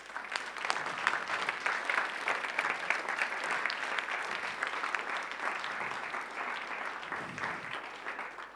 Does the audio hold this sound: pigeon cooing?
no